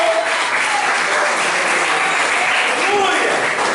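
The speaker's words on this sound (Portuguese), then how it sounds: "Aplaude e glorifica o nome do Senhor." A church congregation claps together in a dense, loud burst of applause, steady and close throughout, with voices mixed into the clapping.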